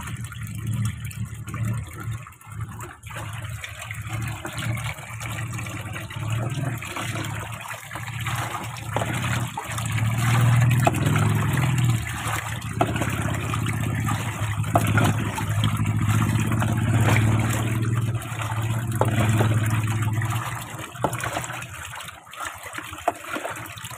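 Water running steadily from a tap or into a basin at home, a continuous trickling gush that swells louder midway, then eases as it nears its end.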